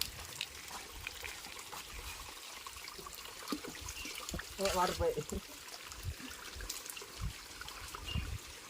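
Faint trickling spring water runs steadily in the background, with a brief splashy burst midway and some low rustling.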